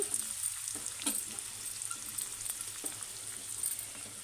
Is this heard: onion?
yes